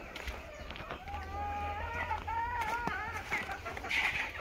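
Chickens on a poultry farm give a run of clucks and short, tuneful calls, fairly close and steady over a low background hum.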